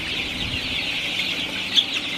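Sonali chicks in a sweltering poultry shed with fans running, making a dense, continuous chorus of high peeps and clucks over a steady background hum, with no talking.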